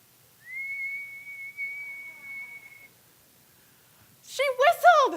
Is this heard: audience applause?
no